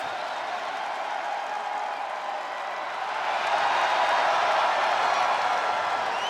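A wrestling crowd at a live event keeps up a dense, steady roar of applause and cheering that swells louder partway through, with an announcer speaking over it.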